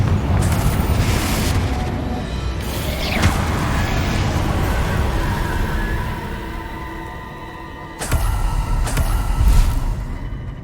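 Fire spell explosions in the Hogwarts Legacy video game, a deep booming blast with a whooshing rush, then a second burst of sharp crashing impacts near the end, with no talk over it.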